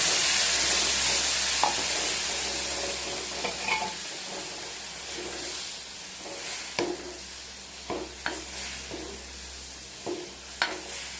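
Ground paste frying in oil with mustard seeds and chili powder for a curry, a continuous close sizzle punctuated by irregular clinks and scrapes of a spoon stirring in the pan.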